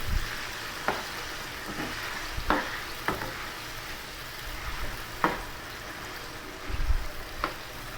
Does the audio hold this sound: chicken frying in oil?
yes